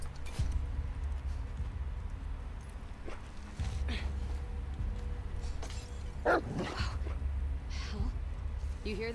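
A dog in The Last of Us Part 2 barks a few times, fairly faint, amid game ambience, enemy voices and someone talking in Romanian.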